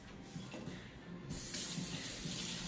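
Kitchen tap running water while food is rinsed during home sushi preparation, a soft trickle at first that swells into a steady, full gush from the faucet, close and continuous with no talking.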